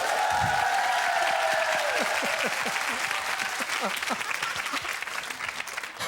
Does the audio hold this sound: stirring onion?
no